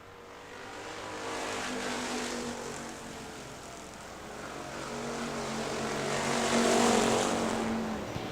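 Factory stock cars race at Hartford Speedway Park, engines droning from a distance and swelling as the pack passes, a broad steady roar that rises and falls across the whole stretch with no voices.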